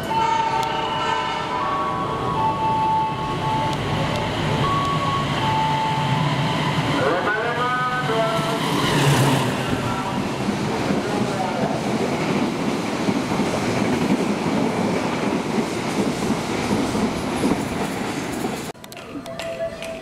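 A passenger train runs through an Indonesian station, its economy-class carriages rumbling steadily and loudly at close range for the whole stretch, with a brief horn-like tone partway through and a short gap near the end.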